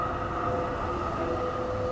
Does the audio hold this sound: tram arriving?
yes